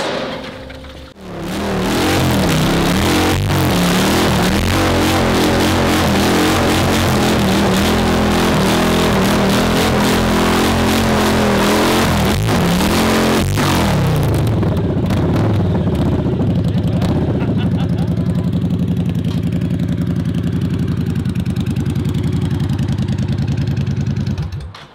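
A chopped Triumph motorcycle roars loudly at close range as it is revved and ridden off, the engine droning steadily before fading and easing away over the last seconds, with no talk.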